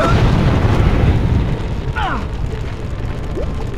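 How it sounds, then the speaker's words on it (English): A fireball spell ignites a patch of grease in Dragon Age: Origins, giving a roaring whoosh of flame that fades into a steady crackling burn, loud and close throughout. "That fireball has lit the grease on fire."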